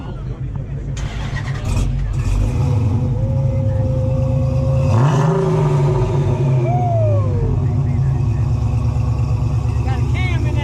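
A modified manual car with a cam rumbles loudly after starting, its idle swelling into a sharp rev around the middle, close by at an outdoor car meet, with people talking over it.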